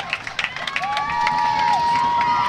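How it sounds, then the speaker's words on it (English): Spectators at a high school varsity boys rugby division final raise scattered shouts and cheers that swell into a sustained roar, with a long rising whistle tone sounding through the noise. "Belmont crowd urging their team on."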